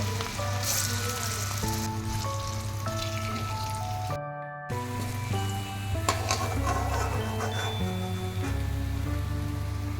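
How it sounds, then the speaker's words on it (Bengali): Green banana fritters sizzle in a little oil, three or four at a time, a steady close crackle with a constant hum and a short break partway through. "অল্প তেলেই কিন্তু আমি তিনটে চারটে করে করে সুন্দর করে একে একে ভেজে নিব"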